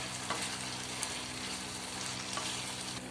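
Rava idli ingredients being stirred in a hot pan, producing a steady bright sizzle with occasional scraping clicks of the spoon, no voices.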